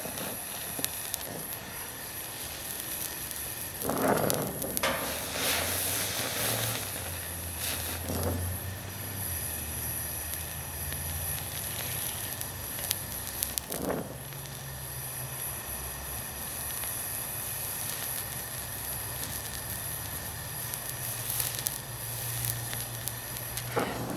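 Brazing a 2N tractor fuel tank: a torch hisses and sizzles in a long, broadband roar, with sharp flare-ups near the start and the middle and a low hum underneath, steady and close with no talk.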